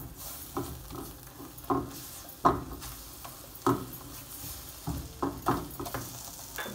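Chicken mixture with ketchup stirred in a sizzling pan, steady frying hiss broken by regular spatula scrapes and knocks roughly every second, close and clear.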